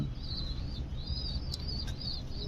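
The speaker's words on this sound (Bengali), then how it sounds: "এবং এই এক জোড়া কবুতর" A pair of pigeons for sale calling softly, faint repeated chirps and coos rising over a low steady background rumble.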